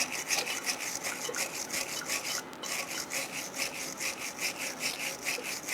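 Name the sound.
brushing rust out of brake caliper slide areas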